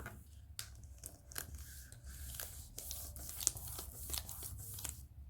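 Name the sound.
peeling protective film off adhesive paper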